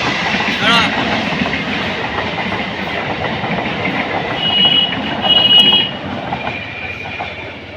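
A train rumbles past at a station with steady wheel and rail noise, a brief metallic squeal partway through, people nearby.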